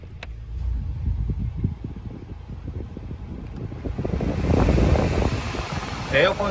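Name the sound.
car air conditioner blowing, Hyundai NF Sonata Transform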